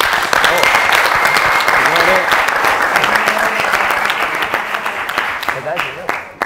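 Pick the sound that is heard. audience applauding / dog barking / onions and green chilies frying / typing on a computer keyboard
audience applauding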